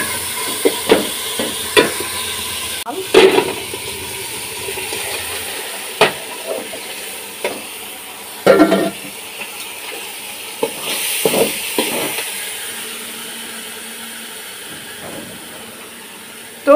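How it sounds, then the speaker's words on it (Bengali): Khichuri of rice and lentils sautéing in a pan, a steady hissing sizzle with repeated scraping stir strokes and clatters at irregular intervals, fairly loud and close with no talk. "তো এটা এখন ভাজা ভাজা করে নেব।"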